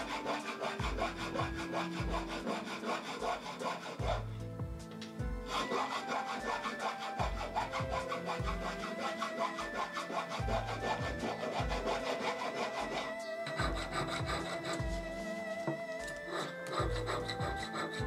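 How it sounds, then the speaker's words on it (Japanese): Hand filing with a rasp on an iron sword guard (tsuba) for Higo inlay work, a steady run of close, loud scraping strokes in even rhythm with two short pauses, no voices. "根気を必要とするヤスリがけは一日では終わりません。"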